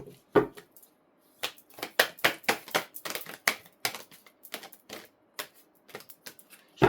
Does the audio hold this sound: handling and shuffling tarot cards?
yes